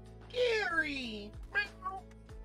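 Gary the snail in PowerWash Simulator gives a high, gliding meow, like a cat's, followed by a couple of shorter chirpy calls over a low steady background hum.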